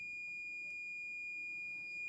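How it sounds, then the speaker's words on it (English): A continuity buzzer wired into a Land Rover Defender TD5 battery saver circuit holds a faint, steady high-pitched bleep for the whole moment, standing alone in an otherwise quiet room. "I've got a continuity buzzer over that way where I'm pointing, and you'll hear a bleeping noise"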